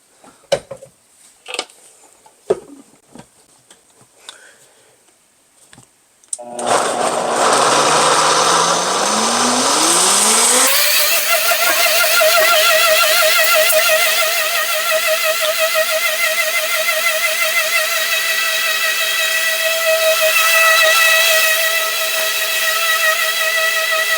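A kitchen blender whirs through cashews, sauerkraut, nutritional yeast and water, starting after a few soft clatters, ramping up in pitch, then holding a loud steady high whine for over ten seconds.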